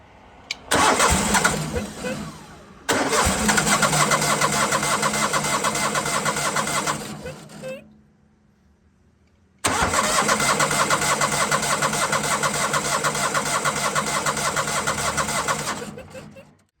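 An old 1970s skid steer with a cleaned carburetor cranks and catches, runs loudly, cuts out briefly, then restarts and keeps running steadily before shutting off.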